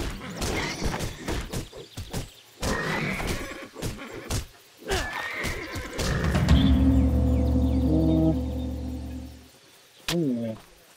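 A horse whinnies and neighs in the video game Titan Quest, loud and close, with clip-clop and thuds around it, then a long drawn-out neigh that trails off before a final short cry.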